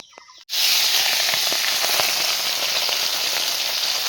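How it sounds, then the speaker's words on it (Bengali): Tengra fish drop into hot oil in a wok and burst into a loud, continuous sizzle that starts suddenly after a brief quiet moment and stays strong throughout. "তো মাছগুলো লাল লাল করে ভেজে নেব।"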